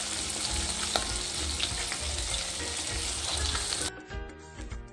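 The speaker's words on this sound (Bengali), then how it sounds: "আর এখানে মাছগুলো তারপর ভেজে নিচ্ছিলাম ভালো করে।" Fish fries in hot oil with a loud, continuous crackling sizzle close by, which cuts off abruptly near the end and leaves quieter kitchen sounds.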